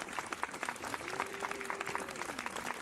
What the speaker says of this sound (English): I gotta clap it up for the Most High.